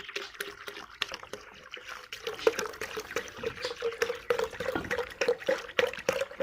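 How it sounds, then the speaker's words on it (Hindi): Lassi blended with gram flour poured into a pot of kadhi curry, a steady liquid trickle and splash running for several seconds with small bubbling glugs, close and moderately loud, no talking. "लस्सी जो बेसन मिक्स करके रखा है वो डाल देंगे"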